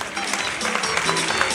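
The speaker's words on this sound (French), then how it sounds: "On les applaudit encore une dernière fois" An audience at an association's inauguration event applauds, a short burst of steady, moderately loud clapping from a crowd indoors.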